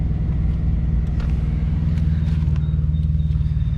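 A car engine runs steadily at idle, a continuous low rumble close by with no talking.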